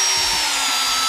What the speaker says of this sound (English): Keep drilling and pull it out.